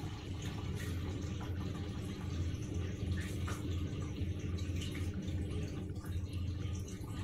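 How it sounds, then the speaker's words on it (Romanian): A Platinum washing machine drains water after a reset: a steady watery gurgle and trickle over a low pump hum that runs on evenly without a break, close by, with no one talking. "Mașina începe să evacueze."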